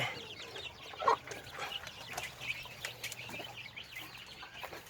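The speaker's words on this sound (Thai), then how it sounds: "ไก่โตตัวนี้" Chickens cluck softly in a busy outdoor setting, with a slightly louder squawk near the start over steady low background noise.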